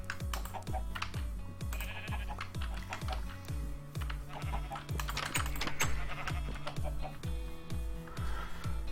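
Sheep in a video game bleat over and over amid steady clicking and tapping, with repeated thumping tones and a busy game soundscape underneath.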